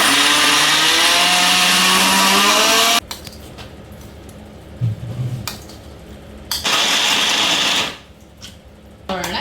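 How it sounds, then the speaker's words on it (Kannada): A mixer grinder whirs loudly as it grinds soaked rice with jaggery, a harsh motor roar that runs for about three seconds, stops, then returns in a second short burst after quieter handling noises. "ನಾನು ಇವಾಗ ಗ್ರೈಂಡ್ ಮಾಡ್ತೀನಿ."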